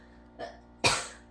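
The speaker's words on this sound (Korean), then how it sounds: "이게 기침을 하면 할수록 더 간지러워." Coughing from the fumes of spicy Cheongyang chili peppers being cooked in a countryside house kitchen: a faint throat sound, then one sharp, close cough.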